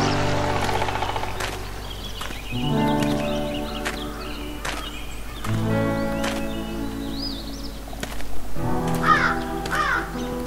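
In the video game Anna, a crow gives several harsh, rasping caws in separate bursts, with other bird calls and light rustling between them over a steady ambient bed.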